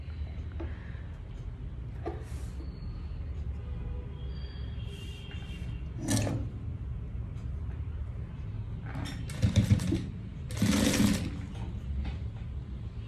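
A sewing machine runs steadily, stitching a seam right alongside fabric piping for potli-button hand sleeves, a continuous close mechanical hum with a few brief clacks and handling noises, no talking.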